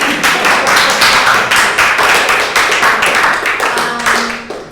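A small audience claps after introductions at a training exercise, a dense, steady patter of hands lasting several seconds before tapering slightly at the end.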